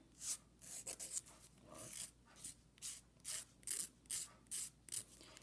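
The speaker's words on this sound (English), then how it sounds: "just sanding it up and like side to side, like this way, this way" Repeated rhythmic rasping strokes of a file scraping back and forth on a hardened acrylic nail, close and fairly even in pace.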